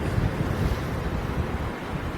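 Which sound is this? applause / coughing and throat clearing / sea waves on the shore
sea waves on the shore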